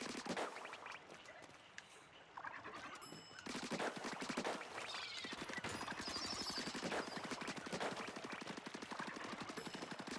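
Automatic turret in Splatoon firing steady bursts forward, a dense rapid rattle of shots over game music and effects, loud and continuous throughout.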